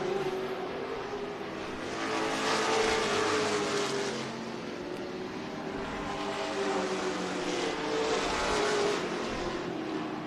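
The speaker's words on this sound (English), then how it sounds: "just from the sound of the motor as it makes its way around each time" A distant modified or pro stock race car engine at Tucson Speedway drones steadily, swelling and fading as it laps the track, with faint crowd and ambient noise behind.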